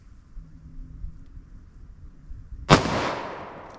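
A single sharp gunshot from a .357 SIG pistol with a 5-inch barrel firing 125 grain jacketed hollow point ammunition cracks out loudly after a quiet stretch of low background rumble, then decays with a broad ringing tail.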